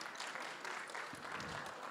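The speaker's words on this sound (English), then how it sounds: "a quick round of applause for our panelists" A brief, very faint patter of audience clapping for a panel of site reliability engineers at a lounge event, soft and distant throughout.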